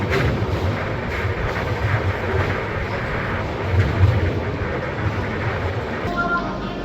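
A train stands or moves at Vijayawada Junction railway station in India, giving a steady broadband rumble with low engine drone throughout, close and continuous, fading slightly near the end.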